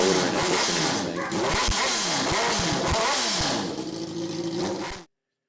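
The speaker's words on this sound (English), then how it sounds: "One was this Hayabusa, had a 1300cc motor in it." A quad ATV fitted with a 1300cc Hayabusa motor revs hard in an ATV rental and parts shop in Las Vegas, with quads hanging from the ceiling. Loud, close, repeated throttle blips rise and fall for about five seconds, then cut off abruptly.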